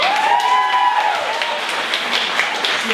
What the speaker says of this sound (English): Big applause for who we've had already